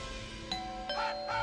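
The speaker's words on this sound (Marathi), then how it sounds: "बेल बज गई." A doorbell in a home chimes three times in quick succession, clear ding-dong tones over a quiet indoor background with no talking.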